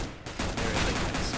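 Rapid Tec-9 pistol fire rings out in a Counter-Strike match on the Cache map, a dense run of overlapping shots that continues almost unbroken after a short quiet start.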